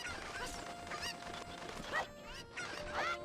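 Cuckoo chickens in The Legend of Zelda: Ocarina of Time give repeated squawking, honk-like clucks in quick bursts, close and moderately loud over quiet game ambience.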